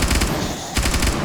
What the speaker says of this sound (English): When we finish shooting up the rest of our P90 ammo